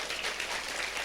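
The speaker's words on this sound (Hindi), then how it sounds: "ताली बजाएंगे जोर से" A church congregation claps together, a brief burst of dense, steady applause heard at moderate distance.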